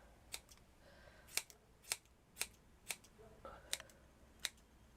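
Scissors cut yarn while a knitted doll's hat is being finished, giving about eight crisp, close snips at a fairly even pace against a quiet background.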